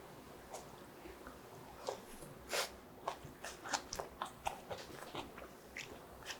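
Close, crunchy chewing of mackerel wrapped with braised sweet potato stems, a run of soft bites and crunches repeating every half second or so, fairly faint in a quiet room.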